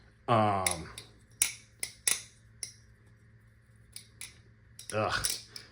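An Invictus balisong butterfly knife clacks through flips in a handful of sharp metallic snaps and clicks, spaced irregularly, close and distinct against a faint background hum.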